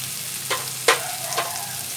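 Ground coriander, chilli powder, turmeric, ginger paste and green chillies fry in a pan for chal potol, a steady soft hiss marked by three brief bursts of stirring or added chillies, with no voices.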